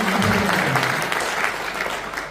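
An audience at a business award meeting claps together in steady, dense applause that stays loud and then tapers slightly toward the end, with a faint voice over it at the start.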